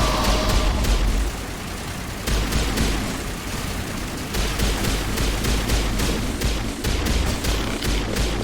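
Dense, continuous crossfire of gunshots during a Mass Effect battle on Virmire, rapid overlapping bursts and booms sustained loudly throughout with no pauses.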